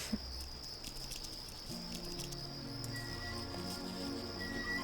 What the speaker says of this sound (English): Why are those crickets so loud?